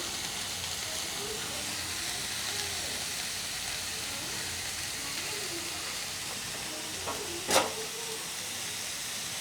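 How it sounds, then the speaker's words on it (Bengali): Vegetables fry with cumin, coriander, red chilli powder and chopped green chillies in a pan, giving a low, even sizzle under faint background voice, with a sharp clatter near the end. "এবার সবজিগুলোকে ভালো করে ভেজে নিতে হবে।"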